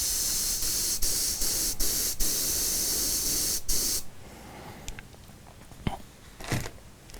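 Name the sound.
airbrush spraying, air from compressor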